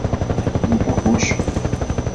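A helicopter in the video game Entropy: Zero 2 thrums with a rapid, steady rotor chop, loud and close, with a brief faint electronic beep over it.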